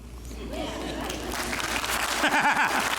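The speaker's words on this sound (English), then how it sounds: "Here he's begging for a clap." Church congregation applauding during a sermon, a dense sustained clapping that swells slightly toward the end while a voice speaks over it.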